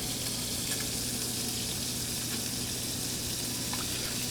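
Halibut cheeks sizzle in a pan over induction heat, a dense, steady frying hiss lasting throughout, close and moderately loud with no talk.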